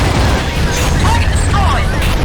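An explosion in the AquaNox underwater combat game, a loud, sustained rumbling boom with a rough roar and scattered crackles, filling the whole moment without letting up.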